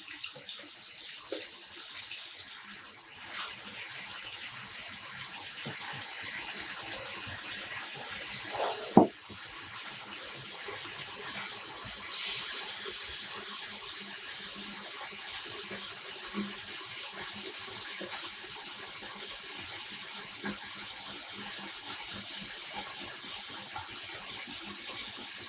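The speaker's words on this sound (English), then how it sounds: "And we're adding some more water." Tap water runs steadily into a yarn dye pot, a continuous bright hiss that is fairly close, with one brief knock partway through.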